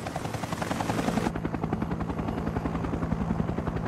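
A military helicopter from the Vietnam War era thunders close and loud, its rotor blades chopping in a steady rapid beat that carries on without a break.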